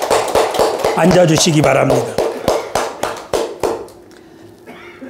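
A church congregation claps in brisk, crisp rhythmic beats close by while a voice speaks over it. The clapping thins and stops after about four seconds, leaving a quieter room.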